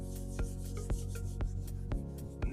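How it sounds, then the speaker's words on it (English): A Scotch-Brite pad scrubs a surface in a van conversion workshop, a steady close rubbing hiss punctuated by a regular series of sharp strokes about every half second. "So I say, this is just Scotch-Brite."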